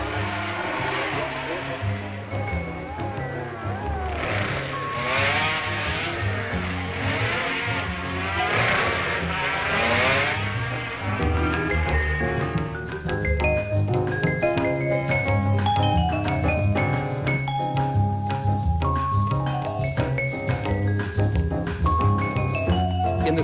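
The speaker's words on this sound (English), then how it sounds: "Ivy crossing Governor's Bridge, followed by his teammate, Reed." Yamaha racing motorcycles at the 1968 Isle of Man TT, crossing Governor's Bridge one after another, their engines droning and rising as they pass, with someone narrating over the machine noise.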